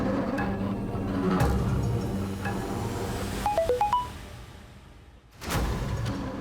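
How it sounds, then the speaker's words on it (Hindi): A mobile phone rings indoors amid a tense hostage situation, a short burst of rising electronic tones over a low background hum, then a brief drop before the room sound returns. "किसका मोबाइल बजा?"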